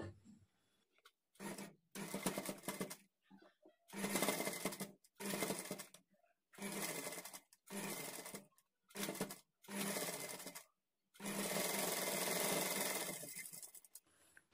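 Domestic sewing machine running double stitches to attach puff sleeves at the shoulder: a string of short whirring bursts separated by pauses, ending in one longer continuous run, close and alone.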